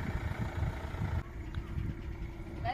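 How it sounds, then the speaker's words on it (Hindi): A car engine runs steadily with low rumbling as the vehicle is taken out for a shopping trip, heard close by with faint background noise. "अनिल ने गाड़ी निकाल ली है"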